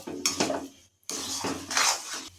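A spoon scrapes and clanks against a pan while stirring food, two short bursts of metallic scraping separated by a brief pause, close and fairly loud with no voices.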